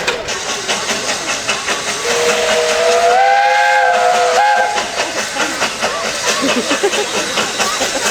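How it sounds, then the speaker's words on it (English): A steam locomotive's whistle sounds as the train pulls into the station at Whipsnade Zoo. One long, loud, steady blast lasts over two seconds, rising out of continuous close hissing steam. "wait for the train to pull in"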